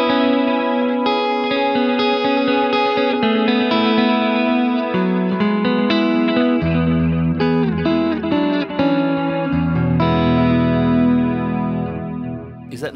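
Electric guitar played through a Keeley ECCOS delay pedal set to dotted-eighth stereo repeats, sustained notes and chords trailing into shimmering, slightly modulated echoes, loud and continuous with no talking.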